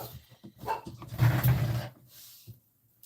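A dog gives a low, gruff bark or rumbling woof nearby, a brief vocal burst followed by quieter breathy sounds.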